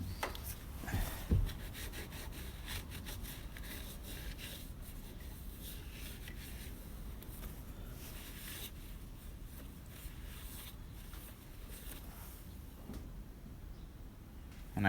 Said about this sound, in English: And give it a quick wipe.